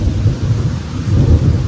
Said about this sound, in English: we are in the middle of a thunder and lightning storm